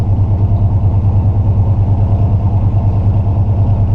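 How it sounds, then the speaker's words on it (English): Car with a three-on-the-tree manual gearbox cruising in second gear through a residential area, a loud, steady, close engine drone with an even low throb and no voices. "cruising around in residential, like you can see, I'm in second gear, just cruising"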